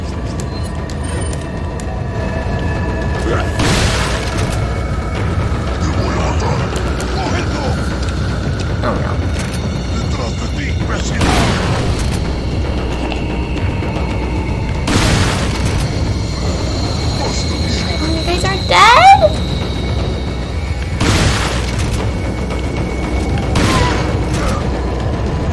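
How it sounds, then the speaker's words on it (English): Shotgun blasts in Resident Evil 4, several loud booming shots spaced a few seconds apart over a steady background game ambience, with no talk. "shotgun"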